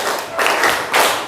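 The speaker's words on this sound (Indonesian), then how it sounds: "tepuk tangan" A fifth-grade primary school class claps hands in quick bursts, several loud rounds of clapping close by, with no talking over them.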